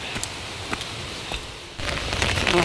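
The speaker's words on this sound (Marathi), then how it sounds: "पाऊस पडायला लागला" Rain begins falling, a steady soft patter with scattered drips, growing heavier in the last second.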